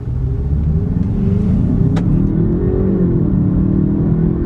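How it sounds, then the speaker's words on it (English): A 2023 Genesis four-cylinder car engine revs up in one steady pull with traction control off, a loud, continuous low rumble rising slightly and holding throughout. "I love the sound of this car"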